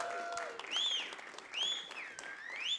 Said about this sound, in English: let's hear another big round of applause to everyone that's been on stage this afternoon.